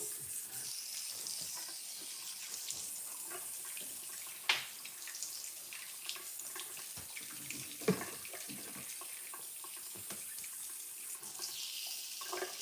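Steady hiss of water running from a tap during a hair rinse at a curl salon wash day, continuous and fairly close, with a couple of brief knocks.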